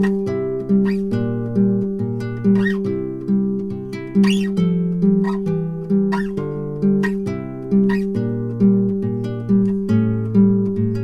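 Acoustic guitar plays the tag from a song: steady fingerpicked notes over ringing bass, evenly pulsed and close, with regular plucked accents and no voices.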